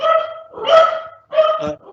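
A dog barks three times close by, loud clipped barks in an uneven rhythm, heard alone without talk.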